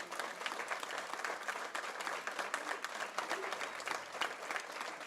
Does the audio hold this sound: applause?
yes